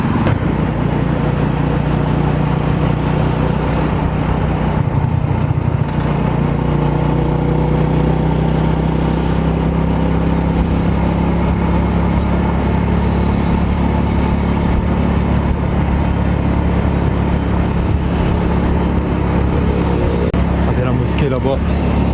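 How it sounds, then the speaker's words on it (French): Motorcycle riding through traffic in Pakistan, a continuous loud engine drone with passing cars and road noise throughout, people talking over it. "On se fait un petit tour en moto,"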